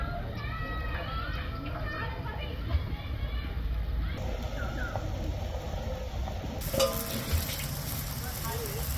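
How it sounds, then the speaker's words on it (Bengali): A pan of cooking liquid for morola fish and elephant-foot yam stems bubbles and sizzles steadily before the fish goes in, with children's voices and chatter in the background. "সুন্দর ফুটছে এবার দেবো মাছ"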